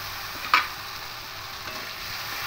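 Tomato paste stirred into frying onions in a pan, a steady soft sizzle with one brief scrape of the spoon early on, close and fairly quiet.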